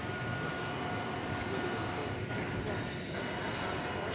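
A Boeing 747, one of the last built in Washington State, roars steadily through a leisurely takeoff at an airport, a broad continuous jet rumble that stays loud and close throughout.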